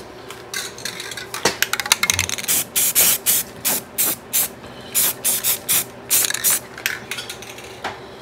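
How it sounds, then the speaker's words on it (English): Rust conditioner sprayed up inside the C-pillar of a rusty junk car under repair, heard as a series of loud, close hissing aerosol bursts in quick rhythmic pulses, with faint metallic rattles between them. "then blew it up in there just to get some rust conditioner on the metal that's up inside of there"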